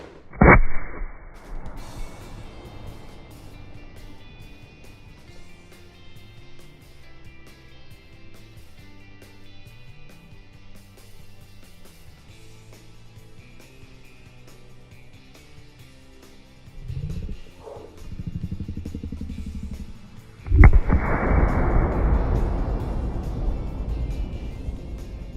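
Consumer fireworks at a backyard demo launch and burst: a sharp boom at the start, a steady tonal background, then rumbling and a heavy explosive burst near the end that trails into sustained crackle.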